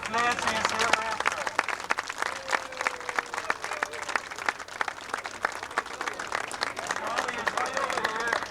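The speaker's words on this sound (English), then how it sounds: "acknowledging your applause" Audience applause at an event, sustained steady clapping from a crowd throughout, fairly loud and continuous with no break.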